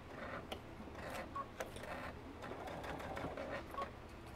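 Sewing machine stitching a seam on plush horse fabric for a stuffed toy, a faint, steady mechanical whirring with soft ticking as it runs continuously, no talk.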